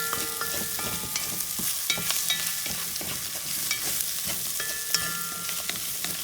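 Puerto Rican salchichon sausage frying in a pot for sausage soup, with a steady bright sizzle and repeated clicks and scrapes of a spoon stirring against the pot, close and alone with no talk.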